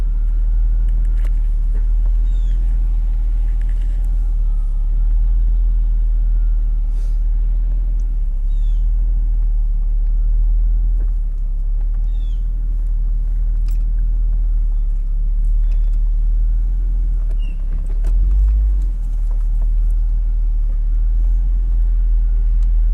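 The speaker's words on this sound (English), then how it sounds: "we're about to go for our first drive with the top down." A Jaguar XJS convertible driving with the top down, a steady low engine and road rumble with wind, continuous and close, with faint scattered clicks and no talking.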